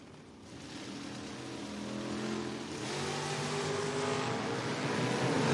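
Camaro drag racing down the strip at a drag racing event, a roaring engine building in volume as it accelerates away, a loud continuous rising drone heard at a distance.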